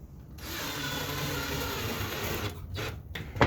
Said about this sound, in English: Now I'm going to put a couple of screws in that.